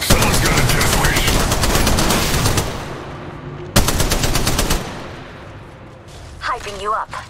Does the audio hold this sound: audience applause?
no